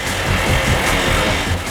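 A short recorded motorbike engine runs as a dense, loud, even roar, close and continuous, with no voices.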